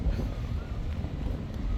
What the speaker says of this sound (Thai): นี่ลมเย็นมากเลย ดูอยากธงพัดสะบัดนะคะ